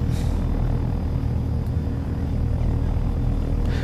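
A helicopter flies in Arma 3, its rotor and engine giving a loud, steady, close rumble that continues unchanged and without voices.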